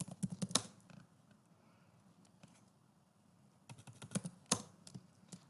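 Keys clack on a computer keyboard in quick bursts, close and fairly quiet, with a pause in the middle before another flurry of taps.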